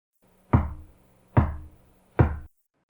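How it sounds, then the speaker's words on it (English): Three slow, evenly spaced knocks land about a second apart, each a hollow, resonant thud with a brief decaying tail, heard alone against near silence as a horror-narration sound effect. "from somewhere deep inside the broken phone came 3 slow knocks"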